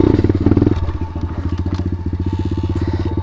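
A pit bike engine revs close up during wheelie practice, its rapid pulsing exhaust note rising in a burst of throttle, then settling into a steady, throbbing lower rev that carries on to the end.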